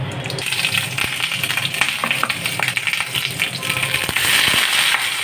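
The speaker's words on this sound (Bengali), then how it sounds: "তেলের মধ্যে সর্ষে ফোড়ন দেব, শুকনো লঙ্কা ফোড়ন দিলাম" Mustard seeds and dried red chillies spluttering in hot oil, a dense crackle of sharp pops and sizzle running steadily close up, with no voices over it.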